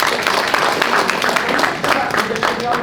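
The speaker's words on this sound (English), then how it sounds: "Let's give them a big round of applause" Audience applause for app contest contestants, dense and loud clapping from a crowd that fills the whole stretch, with some voices mixed in.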